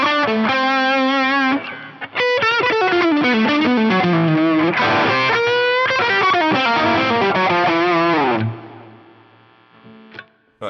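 Heavier distorted electric guitar preset on a Fractal FM9 chugs and bends through a dense, loud riff of rapid chords for about eight seconds before decaying into a faint tail, with no talking.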